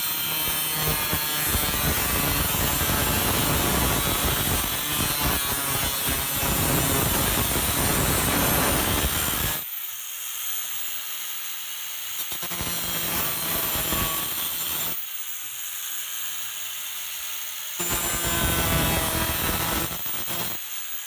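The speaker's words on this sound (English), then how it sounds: "Then we're gonna proceed to cut our track from the mark that we made." A closet door track is cut to length with a power tool, a loud, continuous high-pitched cutting whine that drops away twice into brief quieter pauses before resuming, close up with no talk.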